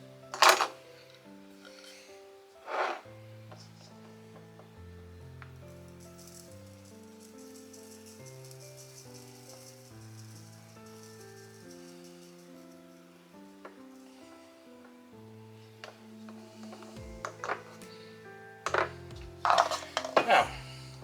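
Dried onion being ground into powder, producing scattered clattering and scraping rattles with a few louder knocks, spread over a quiet stretch beneath steady low background music.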